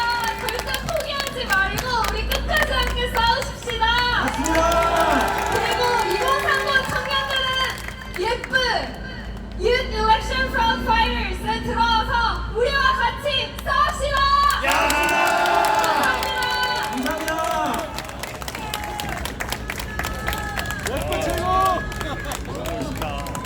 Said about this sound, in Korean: 더 큰 박수로 더큰 함성으로 격려해 주시고 응원해 주시기 바랍니다.